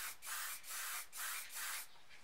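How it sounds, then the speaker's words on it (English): A spray paint can putting lighter red paint just above the darker red in a palm tree painting, four soft, fairly quiet hissing bursts in steady rhythm, each lasting roughly a third of a second. "spray just above it"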